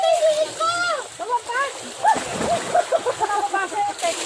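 Water splashes and sloshes in a continuous outdoor stream while children and adults talk and call out loudly over it, the voices nearly covering the splashing.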